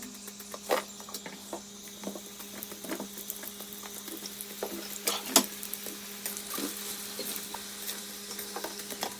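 Brinjal and cauliflower pakoras deep frying in hot oil over a high flame, giving a faint, steady crackle with scattered sharper pops and no voices.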